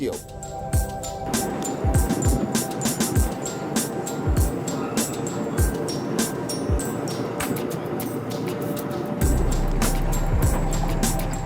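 A last surviving Soviet K-46 truck-mounted crane slews its swivel section while the empty hook is raised and lowered, giving a steady close mechanical drone broken by repeated clunks and creaks, growing louder near the end.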